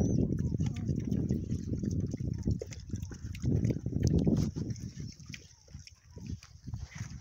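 Pigs feed on cactus palm up close, making a dense run of crunchy chewing and snuffling with low grunts throughout.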